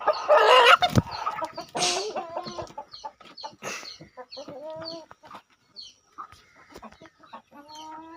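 A Ramasree rooster crows loudly up close, then a series of clucks and short calls follows, with no one speaking.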